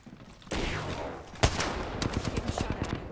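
Gunfire from a video game shooter featuring the Kraber sniper rifle: a sharp loud crack near the middle, followed by a rapid rattle of repeated shots, with no talking.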